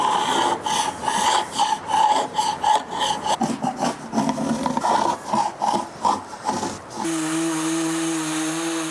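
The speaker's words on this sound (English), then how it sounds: "So we'll clean this up, get these edges sanded down." Rhythmic rasping strokes of sanding excess glue off the edges of a wooden door panel slab, close and steady, ending as a constant machine hum takes over.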